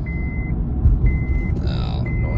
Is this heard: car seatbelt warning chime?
yes